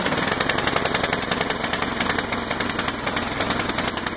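A Craftsman snowblower engine runs after being pull-started, a rapid, steady mechanical chugging that is moderately loud and continuous throughout, with no voices over it.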